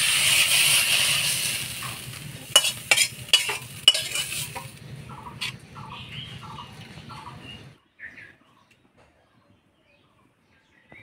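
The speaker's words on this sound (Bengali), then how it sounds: "ঢেকে শাক ভাজা হয়ে গেছে" Dhenki fern greens fry in a pan with a low sizzle and several sharp scraping stirs over the first few seconds, then a few soft clinks before the sound fades to near silence.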